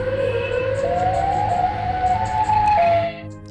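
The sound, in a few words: siren of the Siren Head creature in a horror video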